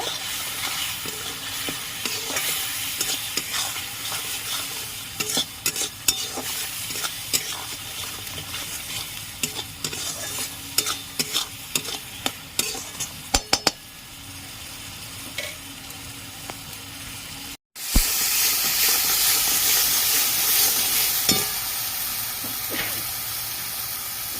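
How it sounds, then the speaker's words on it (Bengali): Soybean curry spices with turmeric and a little sugar stirred and fried in a pan, giving a steady loud sizzle broken by scraping stirs, a brief drop near the end, then a stronger, brighter hiss. "এবার সব ভালো করে কষিয়ে নেব"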